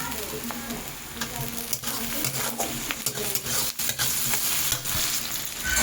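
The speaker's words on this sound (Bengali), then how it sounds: "এখন এখানে এই যে টমেটোটাকে কেটে রেখেছি সেই টমেটোগুলোকেও আমি এতে দিয়ে দিচ্ছি" Tomatoes frying with onions in oil are stirred steadily in a pan, a continuous close sizzle broken by repeated spatula scrapes throughout.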